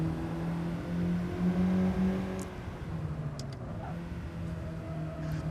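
A new Honda Prelude driving through mountain turns, its steady engine hum heard from inside the cabin with a tone that rises and then settles, under faint road noise and occasional light ticks.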